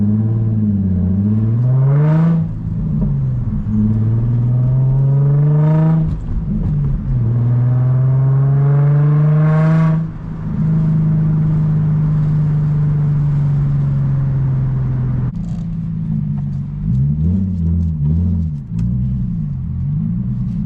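Infiniti G35 with a 6-speed manual and muffler and resonator delete, its exhaust revving up and dropping back repeatedly, loud and close, with a deep droning cruise in the middle.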